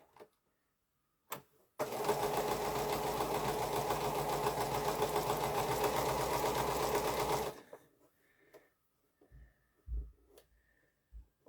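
A sewing machine runs alone stitching curves in a quilt, a steady rapid mechanical hum lasting about six seconds, preceded by a brief click and followed by soft handling thumps.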